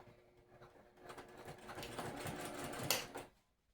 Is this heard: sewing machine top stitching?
yes